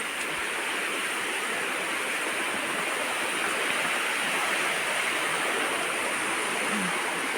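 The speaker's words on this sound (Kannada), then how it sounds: "ಹೊಳೆ ಹತ್ರ ಬಂದೆ ನಾನು ಹೊಳೆಯನ್ನು ತೋರಿಸೋದಿಕ್ಕೆ ಹೊಳೆಯಲ್ಲಿ ಸ್ವಲ್ಪ ನೀರು ಬಂದಿದೆ" Steady, broadband rush of the Sharavati river flowing, continuous and fairly loud throughout with no voices.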